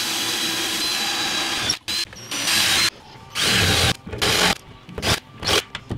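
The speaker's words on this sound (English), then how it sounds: "Stick a riv nut, and then this bad boy will be ready to mount" Riv nut being installed in a Sprinter van floor, with harsh grinding tool bursts broken by short gaps and clicks, loud and close, with no talking.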